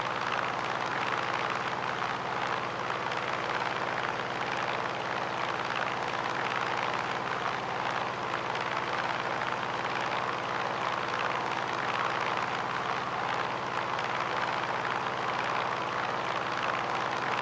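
A Grumman F6F-5 Hellcat's piston engine in Microsoft Flight Simulator over the Hawaiian islands, a steady, loud, unbroken drone with a low humming tone that holds level for the whole stretch, with no talk.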